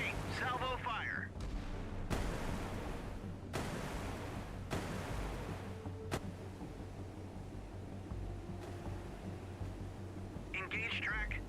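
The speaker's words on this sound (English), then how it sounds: "Engage track 7, 0, 2, 8. Salvo fire." A naval artillery salvo in the warship game Sea Power, several heavy booming shots spaced a second or two apart over a low rumble, with radio-like voices at the start and end.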